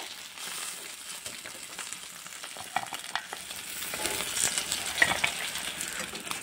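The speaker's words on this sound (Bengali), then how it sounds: "মাছগুলোকে উল্টিয়ে পাল্টিয়ে লাল লাল করে ভেজে নিয়েছি, এবার তুলে নেব।" Pangasius fish pieces frying in a wok, being flipped until reddish-brown, give a steady close sizzle that slowly grows louder, with scattered crackles and light clicks of turning throughout and no voices.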